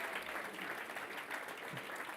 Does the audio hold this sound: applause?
yes